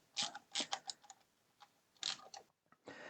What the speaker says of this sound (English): I think I'm going to use my little ratchet screwdriver here today